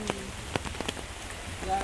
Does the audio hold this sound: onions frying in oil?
no